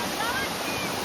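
Water from a small forest waterfall rushes into a stream at Amboli in the Konkan, a dense steady hiss heard up close and unbroken through the whole brief moment.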